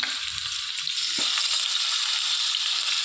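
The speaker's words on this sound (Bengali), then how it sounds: "এবার ভেজে নেব।" Fish heads rubbed with salt and turmeric fry in hot oil in a wok, giving a steady, close, loud sizzle that carries through the clip with one brief clatter near the middle.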